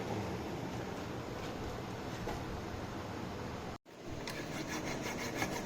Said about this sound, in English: So we're filing it down a little bit.